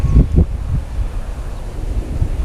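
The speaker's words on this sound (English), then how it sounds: "That wind is really cutting through me" Strong, cold wind buffets the microphone at a fishing lake, with gusty low rumbling and a few heavier thumps early on, continuous and close.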